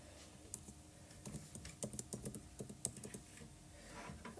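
Fingers tap out a username and password on a computer keyboard, a quiet, irregular run of light keystrokes with small pauses, in a quiet room and with no talking.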